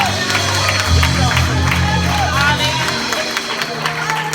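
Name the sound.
congregation clapping hands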